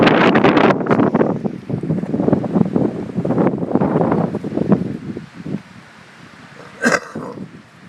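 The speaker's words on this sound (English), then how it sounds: "it's pretty windy out here this morning" Heavy wind buffets the microphone in rumbling, uneven gusts, loud at first and easing toward the end, with a brief crackle near the close.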